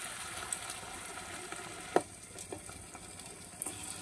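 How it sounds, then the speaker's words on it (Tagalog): Flour-coated field frog pieces frying in hot oil, a faint steady crackling sizzle with a few sharp pops and spatters scattered throughout. "kinukot natin yung ating palaka ng flour, pinapainit ko na yung mantika natin. Ngayon, unti-unti na natin ilalagay."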